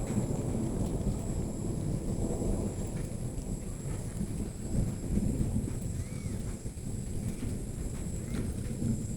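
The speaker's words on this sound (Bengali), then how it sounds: "আপনারা অবশ্যই শুনতে পাচ্ছেন আকাশের শব্দ।" Low thunder rumbles steadily across a dark, cloud-covered sky, a broad continuous roar with gusty wind noise and no clear separate peals.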